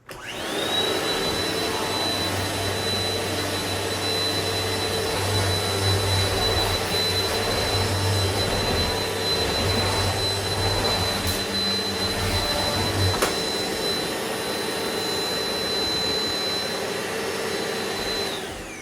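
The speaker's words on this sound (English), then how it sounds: "it powers the vacuum" A DaranEner NEO2000 power unit runs a vacuum cleaner steadily and loudly throughout, a constant droning whine with a high-pitched tone, no voices.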